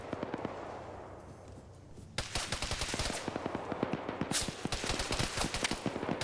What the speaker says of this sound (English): Bullets going all around him.